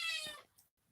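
A vocal pet cat finishes a short meow up close, which quickly fades into near silence in a quiet indoor room.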